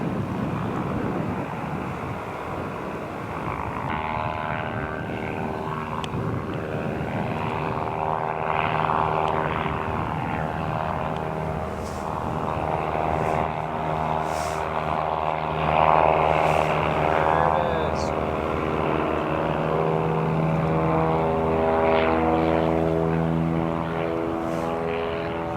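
A propeller aircraft taxiing in Alaska drones with a steady, loud engine hum and layered propeller tones that shift slightly in pitch, with wind buffeting the microphone throughout.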